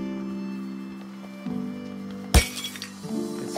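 Objects smash in the South Park: The Stick of Truth video game: one sharp glass-breaking crash over soft game background tones, followed by a few scattered tinkling clinks of debris.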